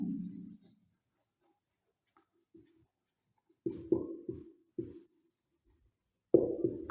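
Writing during an online applied mathematics class comes as short, close scratchy strokes in separate bursts with quiet gaps between them, and no talking over them.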